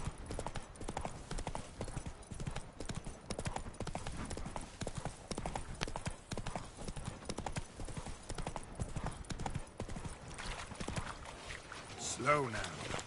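Hooves of a galloping horse in The Witcher 3 video game make a steady, fast clip-clop rhythm across the whole stretch, with someone talking over it.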